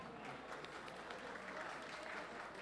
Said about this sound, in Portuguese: uma salva de palmas aí para o grande Bestimol